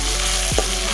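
Ingredients for a duck meat curry with potato and tomato fry in a hot pan, giving a loud, dense sizzle with a quick stirring scrape partway through.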